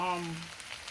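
Shrimp fried rice sizzles in a hot pan with a steady, close frying hiss, brightest at the start and easing slightly as it goes on.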